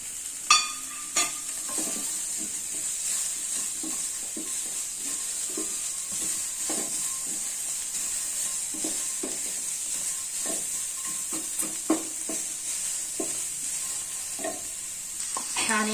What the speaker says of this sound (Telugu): ఆనియన్స్ లైట్గా ఆనియన్స్ వేసుకోవాలి